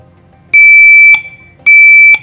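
Two loud electronic buzzer tones from an industrial stack light, each a steady piercing beep lasting about half a second, separated by a short silence.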